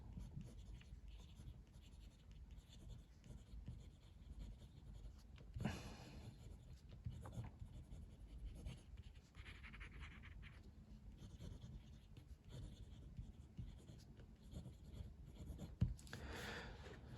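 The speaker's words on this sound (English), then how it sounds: "this pen writes insanely smoothly on it" A Kaweco Bronze Sport fountain pen loaded with Iroshizuku Yamabudo ink writes on smooth 90 gsm coated Clairefontaine paper, giving soft, close, faint scratching strokes in a quiet room.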